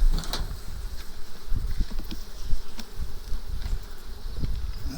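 A dense, steady buzzing of many Carniolan honeybees, close and continuous, with small swells as insects fly past.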